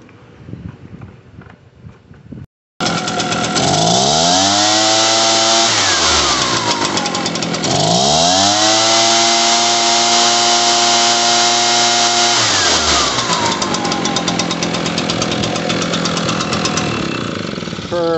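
An Echo PB-755ST backpack blower's engine starts after a brief quiet stretch and runs loud and close, revving up and down in two big swells before settling into a steady high roar.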